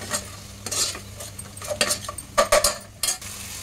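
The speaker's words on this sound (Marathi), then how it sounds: "मी ॲड करते ग्रीन मिरची, आलं लसूणची पेस्ट. हे सुद्धा आपण चांगलं परतून घेऊया." Green chili and ginger-garlic paste stirred with tomato in a pan for a festive Bhogi vegetable dish, with brief scraping strokes and soft sizzling at an uneven rhythm, close by and without speech.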